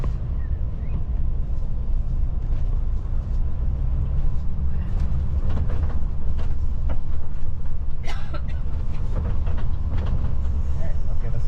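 An Alaska train runs on its tracks with a steady, loud rumble and occasional rattles and squeals, heard from close by.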